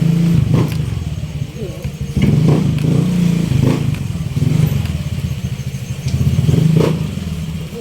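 A motorcycle engine idles and putters steadily up close with low rumbling, while a person talks over it.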